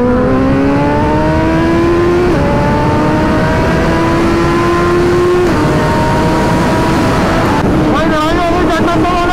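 A sportbike, from a Sunday ride pairing a Kawasaki ZX-10R and a Suzuki Hayabusa, accelerates hard on an open road; its engine note climbs steadily through several gear shifts over constant wind rush.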